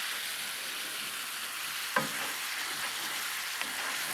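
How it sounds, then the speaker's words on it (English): Pan being deglazed and scraped for paella macaroni, a steady soft sizzle throughout with one sharp scrape or clink near the middle and a fainter one later. "we're actually deglazing the pan a little bit"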